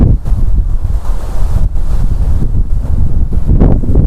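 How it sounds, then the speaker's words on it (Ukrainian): Strong wind pounding the microphone in heavy low gusts, with a roar like surf underneath; loud and close, no voices. "піднявся великий вітер"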